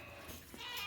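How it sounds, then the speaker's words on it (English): Sheep bleating inside a crowded barn on a freezing night, a faint, brief bleat rising over a steady background hum. "There's a lot of sheep in here"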